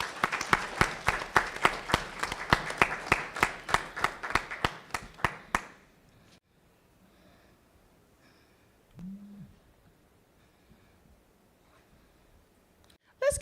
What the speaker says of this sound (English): Let's give our JES students another round of applause.